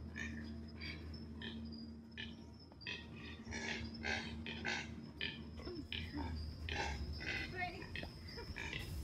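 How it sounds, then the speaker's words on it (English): Cormorants call from the trees in a rural Brazilian forest, repeated grunting, pig-like squeals coming in bursts over a constant background hum of insects. "It turns out that these astonishing sounds were coming from a kind of cormorant."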